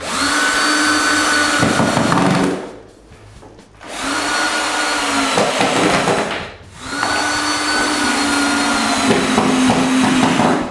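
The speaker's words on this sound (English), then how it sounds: "with a 3/16 drill bit." A power drill with a 3/16 bit bores through wooden base moldings in three sustained high whining bursts, separated by brief pauses, loud and close.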